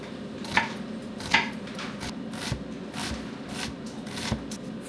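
Knife chopping half an onion on a cutting board for fresh pico de gallo salsa, a run of quick, close, evenly spaced thuds and taps with no talking.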